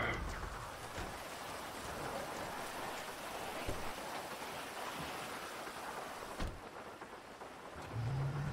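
In-game thunderstorm in GTA V: steady heavy rain hisses throughout, with low thunder rumbles and a sharper crack near the end.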